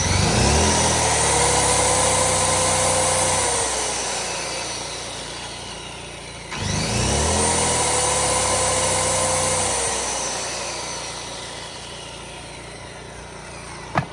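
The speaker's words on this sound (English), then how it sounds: "let's start the skill saw and you'll hear the engine ramp up to meet that demand" A Predator 2500 inverter generator engine rises to a loud steady drone as a circular saw cuts, then eases down. The cycle repeats twice, the saw's whine riding over the engine, with no one talking.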